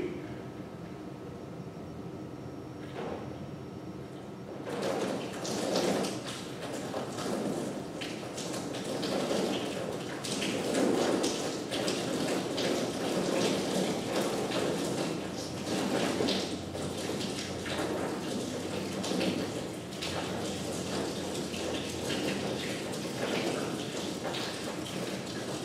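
Water poured in a steady, continuous stream, a broad rushing splash that starts after a few seconds of quiet and keeps going evenly at moderate loudness, close by.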